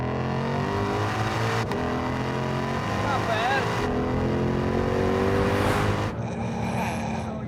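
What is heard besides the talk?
car accelerating hard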